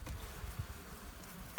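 Honey bees hum and buzz softly around a beehive, a faint continuous drone over a short moment that ends with a brief louder knock.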